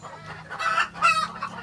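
Desi chickens cluck close by in two short, raspy bursts, loud and clear with no talk over them.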